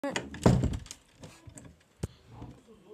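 A door is shut with a heavy thunk near the start, followed by a sharper knock a moment later, close and loud, with scattered clicks and small bumps in between.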